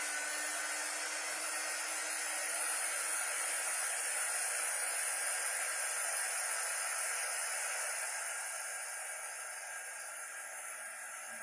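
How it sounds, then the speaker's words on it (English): Hair dryer blowing steadily on a craft project, a loud continuous whooshing hum with a constant tone that eases slightly toward the end, with no talking. "I'm going to dry that and get that nice and dry."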